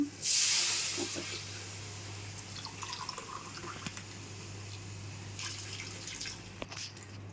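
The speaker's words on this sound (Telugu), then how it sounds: "ఏడు గ్లాసులు కొబ్బరి పాలు పోస్తున్నాను" Thick coconut milk is poured into rice for pulao, starting with a brief loud splash and then settling into a soft, steady trickle of liquid.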